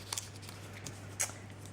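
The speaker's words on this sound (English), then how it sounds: "We're just going to cut up one of those to the middle, like that" Scissors snip through scored card for a handmade box, giving a few short, crisp cuts close by against a quiet background.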